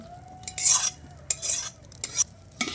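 A spoon clinks and scrapes against the pan as fried carrot, peas and capsicum are stirred into fried rice, in short separate bursts of stirring with quiet gaps, close and clear, over a faint hum.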